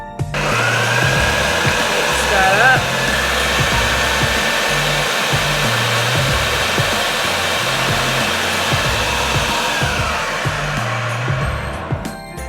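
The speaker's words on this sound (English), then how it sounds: "So on goes the lid for the food processor, and we'll just give that a nice quick whiz." A food processor blending green seasoning vegetables runs in one steady, loud whirring drone for about twelve seconds, with a faintly rhythmic low chopping pulse underneath.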